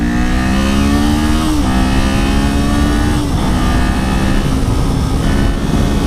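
A Kawasaki Z400 motorcycle revs loudly and continuously on a test ride, its engine pitch climbing and then dropping at shift points as it accelerates.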